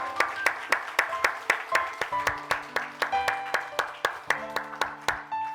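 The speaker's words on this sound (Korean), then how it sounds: "축복의 박수" A church congregation claps as a blessing in a steady, even rhythm of sharp hand claps, with sustained instrumental notes held underneath and no talking.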